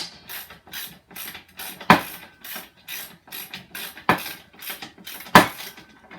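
A ratchet tightening bolts on a Snapper RER riding mower, rhythmic repeated clicking strokes up close, with a few sharper metallic knocks.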